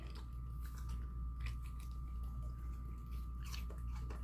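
A dog (Jindo mix) eats a few pieces of pear, its close, wet chewing and crunching biting steady throughout over a faint constant hum, with no talk.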